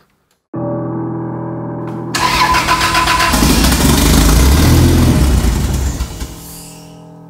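A Vancruiser van engine cranks briefly, then catches and starts for the first time, settling into a loud, rough, steady idle before easing slightly near the end, with no talking.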